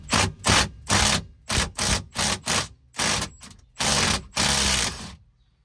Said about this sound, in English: So with an impact gun, it should be easier.